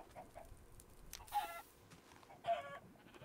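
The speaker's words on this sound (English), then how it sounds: "There's definitely 10 chickens." Chickens in the video game Minecraft clucking, two short, faint bursts about a second apart over a quiet background.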